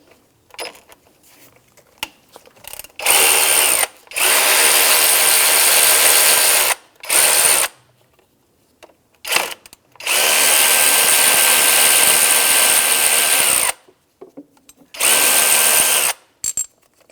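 A power tool works on the belt tensioner adjuster of a 2004-2009 Subaru Outback engine in four loud bursts of whirring, each a few seconds long, separated by quiet gaps with small clicks and handling noises.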